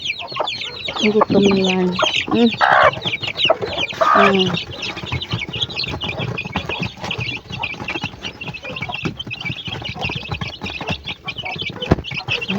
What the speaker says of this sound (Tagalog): Ito na ang sisiw.